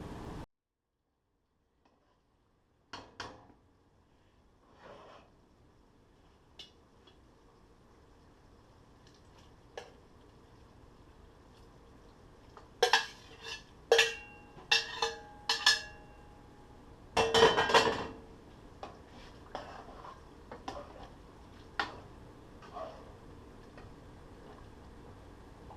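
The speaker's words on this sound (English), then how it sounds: "let's put that okra in there" Okra going into a pot of quick chicken, okra and sausage Creole gumbo, with scattered clinks and clatters of a spoon against the pot, a cluster of sharper knocks in the middle and softer taps trailing off, no talking.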